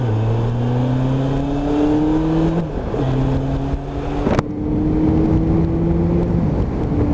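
A Suzuki GSX600F motorcycle engine on a test ride, a steady, close engine note that holds pitch, dips briefly as it shifts gear, then climbs again through a smooth, continuous drone.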